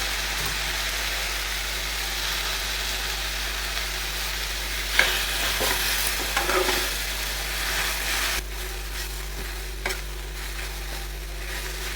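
Greens tossed and stirred in a hot pan while being sautéed for chicken keema gravy, giving a continuous close sizzle with a few soft scraping clinks of the spatula and a low steady hum underneath, no talking.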